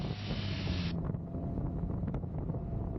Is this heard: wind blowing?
yes